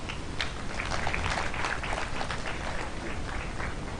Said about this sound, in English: Can we hear a louder applause from University of Nairobi, please?